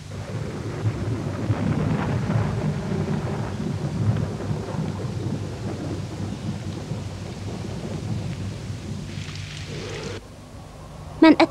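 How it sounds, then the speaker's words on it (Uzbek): Thunder rumbles and steady rain pour down in a cartoon storm scene, a loud continuous roar with deep low rolls lasting most of the stretch before easing near the end. "Tuyuqsiz yomg'ir yog'ishga boshladi."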